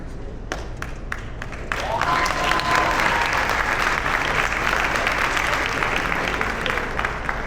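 Loud, sustained applause from a large audience at an International Book Fair event, starting with a few scattered claps and swelling into dense continuous clapping that fills the space.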